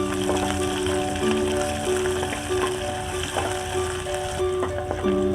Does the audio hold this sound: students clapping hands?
no